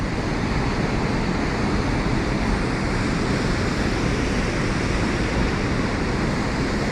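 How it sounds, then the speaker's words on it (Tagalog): Cascade Falls in British Columbia, Canada, swollen with spring snowmelt, gives off a continuous, dense roar of falling water, close and steady throughout. "grabe katsada."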